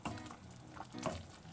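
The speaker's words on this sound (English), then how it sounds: "Now I'm just going to stir that in." Navy beans with ham hocks boiling in a pot and being stirred: soft scraping and sloshing strokes over a bubbling simmer, close and fairly quiet, with no talk.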